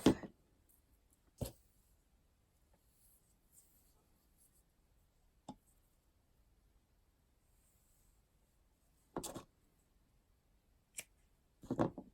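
Scissors snip paper and craft materials at a quiet work table, heard as a handful of short, crisp, well-spaced cuts in near silence.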